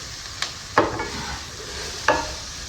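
Vegetables for momos hit a hot pan in a few short bursts of sizzle and stirring, each flare fading quickly against quiet background, close up and without speech.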